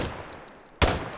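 A single sharp, loud gunshot in a video game shooter, cracking out abruptly near the end after a quiet moment of game ambience.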